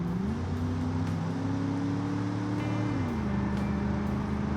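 A 1968 convertible's engine at full throttle in BeamNG, a steady droning roar that climbs in pitch, drops once as the throttle lifts, then picks up again, loud and continuous.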